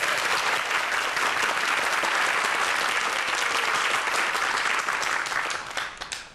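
Loud, dense applause from a seated audience at a Korean startup talk show, greeting a guest speaker and filling the room steadily for several seconds before tapering off at the end.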